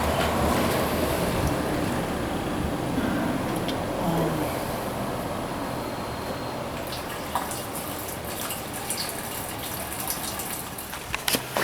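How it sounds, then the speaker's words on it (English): Fuel drains steadily from a motorcycle's main tank through a petcock into a bottle, making a continuous close gushing, splashing pour that holds constant and thins slightly toward the end. "turn it on and drain what's left of the main tank into this bottle"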